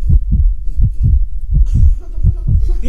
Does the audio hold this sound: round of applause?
no